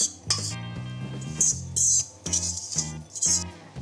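Bowls and utensils clink repeatedly while sugar-free cupcake icing is split between two dishes, with bright, close taps of glass and metal in an irregular rhythm and no talking.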